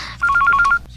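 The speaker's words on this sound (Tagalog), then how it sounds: "Ang telepono." A telephone rings indoors at night with a clear electronic two-tone warble, repeating in rapid pulses for about half a second before cutting off, loud and close with no talk over it.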